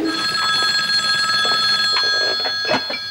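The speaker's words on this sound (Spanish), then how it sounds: "¿puedes coger el teléfono?" An indoor telephone rings steadily with a bright, continuous electronic bell tone, close and fairly loud, while faint household noises and clatter sit underneath.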